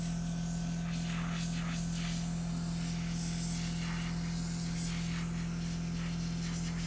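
Zemits SonoSilk facial device sprays serum as a continuous hiss during an exfoliating facial, set over a steady low electrical hum with faint fluctuating mist bursts and no talk.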